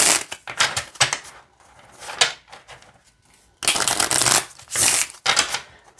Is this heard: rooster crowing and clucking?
no